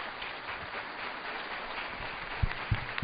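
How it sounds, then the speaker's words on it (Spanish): An audience gives applause in honour of Ecuadorian viewers during a speaking event. It is a continuous, even wash of clapping that holds at a moderate level, with a few louder claps near the end. "Para ustedes ese aplauso."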